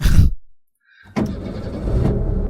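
A car engine starts up in the Scratches video game after a brief silence, then runs steadily at a close, moderate level with a mechanical rumble and no talk.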